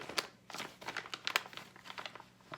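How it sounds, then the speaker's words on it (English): A plastic packet of RC car bumper parts being torn open, quiet close crinkling and crackling with small sharp snaps, scattered irregularly over a couple of seconds. "let's get the packet open."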